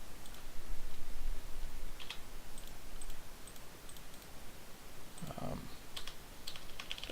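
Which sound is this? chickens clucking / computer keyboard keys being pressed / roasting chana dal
computer keyboard keys being pressed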